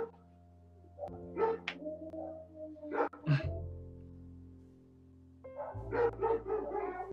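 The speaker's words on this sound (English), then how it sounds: "those in the background are my dogs" Several pet dogs bark and yip in short, clustered bursts, with a pause in between, heard indoors a little way off behind a steady low hum, and no one talking over them.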